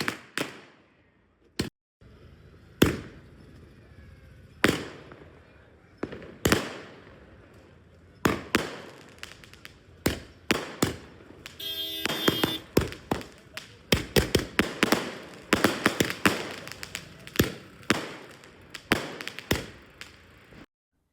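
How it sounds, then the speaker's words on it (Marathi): Firecrackers burst in a crowded town square during a celebration of India's cricket final win, with scattered sharp cracks early on that grow into a dense, rapid volley of loud pops toward the end. "आता आपण पाहू शकता आशा टॉकीज चौकात मोठ्या प्रमाणात फटाके वाजवून जल्लोष साजरा करण्यात आलेला आहे"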